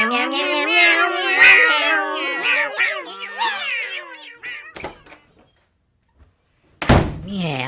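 Human voices imitate cat meows in a rapid, overlapping string of loud, close mewing calls, followed by a pause and a sudden heavy thunk like a door near the end.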